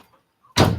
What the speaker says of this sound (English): I forgot to shut my door.